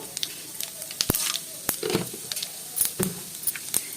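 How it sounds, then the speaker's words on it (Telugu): Tempering seeds crackle and pop in hot oil in a wok, a close run of sharp irregular spits and snaps over a soft frying hiss. "ఇప్పుడు పోపు గింజలు వేస్తున్నాను"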